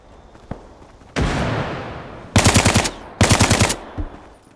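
Video game M4 rifle fire: a single distant shot, a long rushing burst, then two rapid bursts of close automatic fire, loud and sharp.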